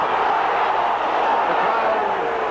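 A rugby league crowd at an Oldham versus St Helens match hoots in derision, a broad continuous roar of many voices filling the stand, loud and steady throughout.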